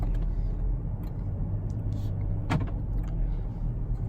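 Steady interior road noise of a 2019 Volkswagen Jetta GLI cruising down the road in sport mode, a continuous low rumble with a brief click partway through.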